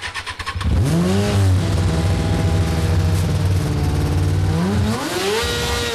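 A race car engine fires up and revs hard, its deep roar holding steady at high pitch before dropping and climbing again, loud and close.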